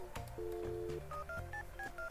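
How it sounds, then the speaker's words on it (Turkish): Telephone dialing tones in Stardew Valley, a quick series of short electronic beeps stepping through different pitches, clear and close with no talking. "Dur, bir saniye önce bir Robin'i arayacağım ne gerekiyordu diye."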